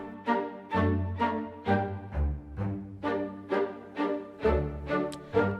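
Music and sounds from the card-manipulation video game Card Shark: a rhythmic instrumental loop with steady pulsing beats and busy plucked-sounding tones over a low bass line, moderately loud, with no talk.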